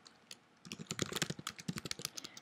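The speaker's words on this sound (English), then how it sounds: "So you just have to write your username" Rapid burst of computer keyboard typing while entering a username, keys clicking close and crisp in quick uneven runs after a brief quiet start, with no voices.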